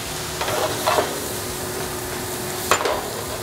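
Mushrooms in a hot pan sizzle loudly and steadily after a splash of moisture is added, with a couple of brief stirring scrapes over the constant frying hiss.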